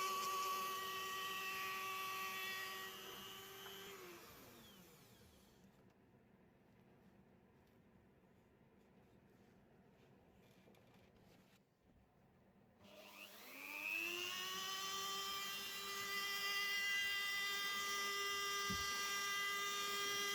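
Rotary tool with a fine stone carving striations on the edge of a wooden fish fin, a steady high whine that fades, drops away nearly to silence, then spins back up and holds close and continuous.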